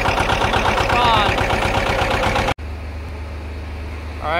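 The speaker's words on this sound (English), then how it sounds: "Engine running." A boat engine running in a lagoon, a loud steady mechanical rumble that cuts off abruptly midway, leaving a quieter low hum with faint sounds at the end.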